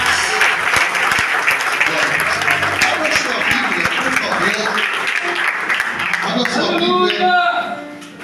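Loud, sustained congregational applause fills a church service, dense clapping mixed with cheering voices, tapering slightly near the end.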